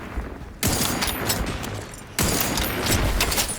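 Gunfire hitting the player in The Outer Worlds 2 comes as loud, dense bursts of rapid shots, a short volley followed by a second sustained barrage after a brief pause, with no talking.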